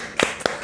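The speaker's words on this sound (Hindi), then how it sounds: "ताली बजाए भाई" Three quick hand claps spaced evenly about a quarter-second apart, close and crisp, with no voice over them.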